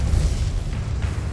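Confringo fire spell blasting in Hogwarts Legacy: one heavy, deep boom with a rumbling low end that rolls through the whole short moment, loud and close with no talking.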